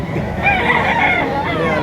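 A pikom rooster crows at a live poultry market in Lipa, the call loud and close over a constant din of crowd noise and nearby clucking, with a voice speaking throughout.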